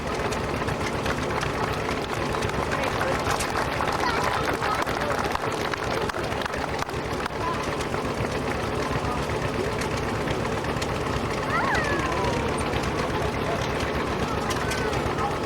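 A Bulldog tractor engine runs with a steady, rapid chugging at a rural heritage village rally, loud and constant, while people talk nearby.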